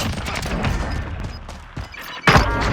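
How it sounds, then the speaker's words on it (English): An SVT-40 sniper rifle firing in Call of Duty Warzone amid a firefight, sharp gunshot cracks and thuds scattered over a couple of seconds, ending with one loud, close blast. "my sniper shot there"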